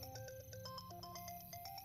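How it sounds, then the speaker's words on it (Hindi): A phone ringtone plays a repeating electronic melody of short tonal notes, steady and moderately loud, with no voices. "तेरा फोन बज रहा है"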